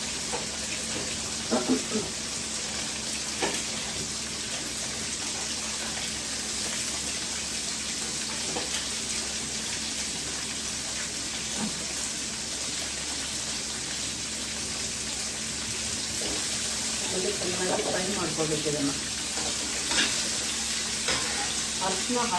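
Onions frying in a pan in a home kitchen, a constant soft sizzle with occasional scrapes and clinks of stirring, close and steady throughout.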